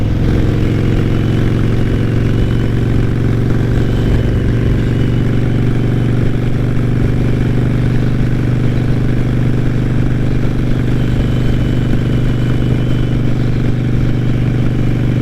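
A Harley-Davidson motorcycle cruises on a freeway with a steady, loud, low engine drone and rushing road and wind noise throughout, unbroken and without voices.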